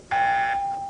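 A single electronic buzzer sounds on the 1991 Carmen Sandiego television game show. The steady, loud tone starts abruptly, lasts nearly a second and fades slightly at the end.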